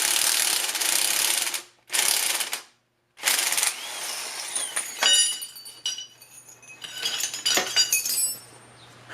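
A wrench ratchets rapidly in bursts, with clinking metal and short pauses, while a rear trailing arm suspension bushing goes into a Civic wagon. The work is close up with no talking.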